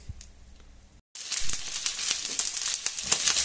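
Chicken legs browning in a frying pan, a loud, dense sizzle with crackling spits that starts abruptly after a quiet second and keeps going steadily.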